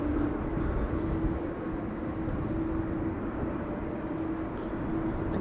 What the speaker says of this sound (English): Next up will be Iberia Express arriving from Madrid